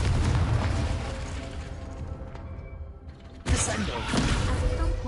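Confringo fire-blast spell in a Harry Potter video game, a single sudden explosive burst near the middle of the clip over a continuous rumbling game background, with a voice present.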